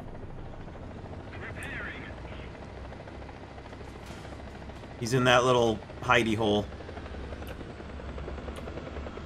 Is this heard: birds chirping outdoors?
no